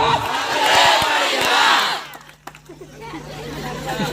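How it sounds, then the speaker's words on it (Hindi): Crowd at an Adivasi cultural program in Nartori, Chhattisgarh cheering and clapping loudly with whoops and shouts, then the noise drops away to quieter murmuring and scattered sounds. "एक बार जोरदार ताली अपन आदिवासी भाई बहन"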